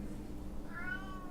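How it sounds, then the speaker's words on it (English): A house cat gives a single drawn-out meow, faint and close, rising near the end of the moment over a low steady background hum. "Stop meowing."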